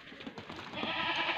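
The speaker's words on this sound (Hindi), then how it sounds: "ये बकरी भी छूट गई" Loose goat bleating once or twice, faint and somewhat distant, followed by a hissing, breathy background noise.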